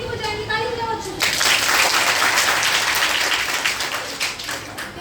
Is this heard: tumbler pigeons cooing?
no